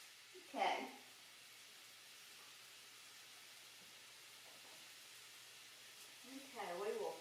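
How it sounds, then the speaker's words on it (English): Ground meat for tacos sizzles in a frying pan as a faint, steady hiss that runs throughout. Brief speech is heard near the start and again at the end. "It's sizzling now."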